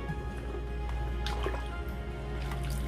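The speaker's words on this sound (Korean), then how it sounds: "이렇게 건져서 바로 식혀주시면 됩니다." Blanched mung bean sprouts lifted out of their cooking water, with soft dripping and trickling as water runs off them, quiet and close, with a few small splashes near the middle.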